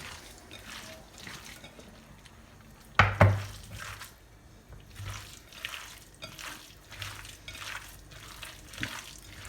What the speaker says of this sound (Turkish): Evet şimdi karıştırıyorum.